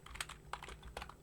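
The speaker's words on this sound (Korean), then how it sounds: "사용자 행동을 유도하는 텍스트를 한번 입력해 보겠습니다" Fingers typing text on a computer keyboard, a quick run of light, irregular key clicks, close but quiet, with no voices.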